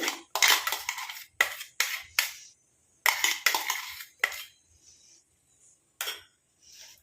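Ground paste, including fenugreek, being mixed in an iron kadai: a series of sharp metallic scrapes and clinks in quick bursts, loud and close, with quieter taps trailing off toward the end.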